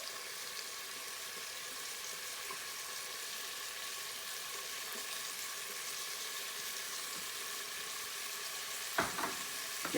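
Asparagus stir-frying with oyster sauce in a hot pan, giving an even, moderately faint sizzle that holds steady, followed by a couple of stirring clatters near the end.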